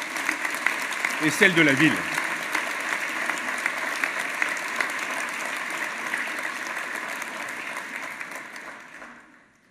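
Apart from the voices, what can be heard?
applause for the police forces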